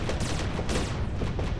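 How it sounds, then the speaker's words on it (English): A main cannon fires in the space combat game Starsector, a rapid run of sharp, punchy gunfire bursts in quick rhythmic succession, loud and dense over a rumbling low background. "And open up with our main cannon."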